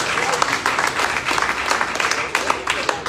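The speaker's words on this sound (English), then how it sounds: "Now clap." A crowd at a Sierra Leone police training event applauds steadily, dense clapping filling the whole moment without a break.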